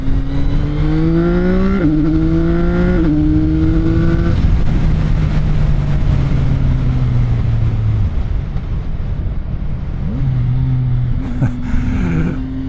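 A CFMOTO 675NK three-cylinder motorcycle engine revs hard and climbs in pitch, briefly dropping at each gear shift before pulling up again, loud and close.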